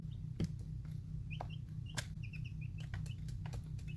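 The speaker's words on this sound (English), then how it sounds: "And they are all lovely little chickens." Soft clucks and short chirps from young chickens sound faintly over a steady low hum, with a few light knocks.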